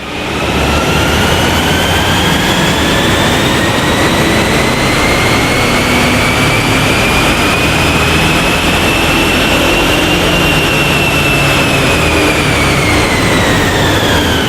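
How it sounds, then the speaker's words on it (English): A remapped Volvo V40 engine, now making about 224 brake horsepower, run hard on a dyno: a loud, continuous roar with a high whine that climbs slowly, peaks and then eases back. "it's time to get this Volvo strapped back down to our dyno to find out exactly what all those changes add up to"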